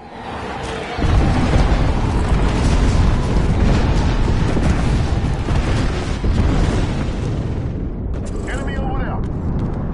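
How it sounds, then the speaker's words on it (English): Heavy, sustained rumbling blasts from an airstrike in Apex Legends roll in after a brief pause, forming a loud, continuous wall of explosions that holds for several seconds before easing slightly. "Calling the airstrike."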